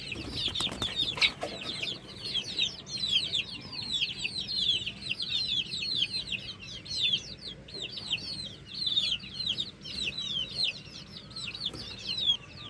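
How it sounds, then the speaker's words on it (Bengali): Native desi chickens in rooftop cages cluck and chirp steadily in a continuous chorus, with many overlapping calls throughout and no talking. "দেশি মুরগি পালন করা হচ্ছে"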